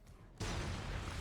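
Grenade explosion in Fallout: New Vegas: after a quiet lead-in, a sudden loud blast erupts and rolls into a sustained roaring rumble that fills the rest of the moment.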